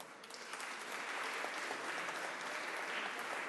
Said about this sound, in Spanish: Queremos recibir también con un fuerte aplauso en este salón al embajador de México en Chile